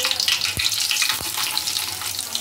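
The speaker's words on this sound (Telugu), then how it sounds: "ఆయిల్ ఎట్టెక్కింది కదండి, ఇప్పుడు దీంట్లో పచ్చిమిర్చి," Green chillies hit hot oil for tempering, giving a loud, dense, continuous sizzle with two low thumps as pieces drop into the pan, no voices.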